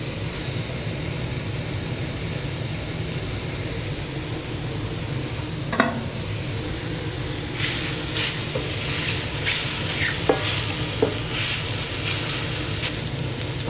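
Chopped onions fry in a hot pan for Kässpätzle, a steady loud sizzle running throughout, with a few sharp scrapes and knocks of a spoon stirring them near the end.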